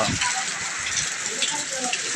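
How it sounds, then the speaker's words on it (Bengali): Steady rain falls outdoors as a dense, even hiss, with a voice speaking over it. "দেখেন কি অবস্থা বৃষ্টি হইতা আছে"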